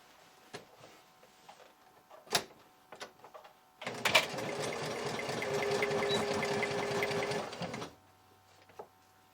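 A sewing machine stitches sleeves onto a T-shirt dress in one steady run of about four seconds, close and clear, with soft handling clicks before and after.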